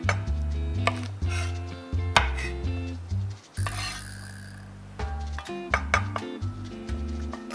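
A knife chops green beans on a cutting board in quick, uneven bursts of sharp, close taps, pausing briefly midway before the chopping picks up again.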